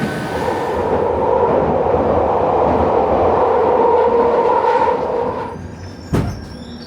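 A loud, steady rumble and roar of a London Underground train at a platform, fading toward the end, followed by a sharp metallic clank.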